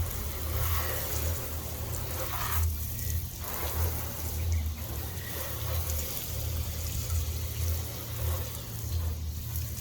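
Water runs and sheets off a car washed with a ceramic SiO2 hybrid shampoo, a continuous wet rushing and trickling with a few brief dips, no voices.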